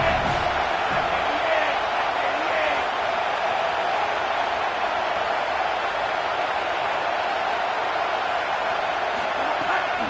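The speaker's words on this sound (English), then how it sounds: "Decibels rising as the crowd gets behind this defense on third down." A big football stadium crowd roaring on third down during a USC versus Miami game, a dense, sustained wall of cheering and noise that holds loud and unbroken throughout.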